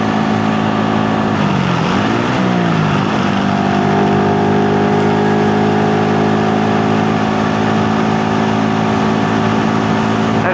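A Honda Super Cub motorcycle ridden toward town hums close and steady, its small engine droning with a brief dip and rise in pitch early on, then settling into an even cruising note.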